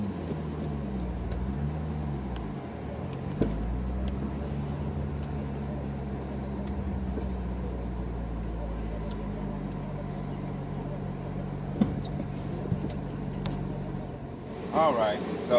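A car pulls away and drives along the road with a low engine hum whose pitch rises and falls through gear changes, then settles into a steady cruise with faint road noise.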